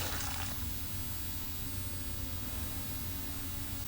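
A broken messaging system in the video game Fallout 3 emits a continuous, fairly loud hiss of white noise, with a brighter burst at the start before settling into an even, unbroken static heard alone.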